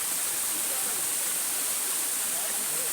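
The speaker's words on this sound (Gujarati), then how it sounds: "આ પાણીનો ધોધ છે" A small waterfall, a dense unbroken rush of falling water heard close up, loud and steady throughout.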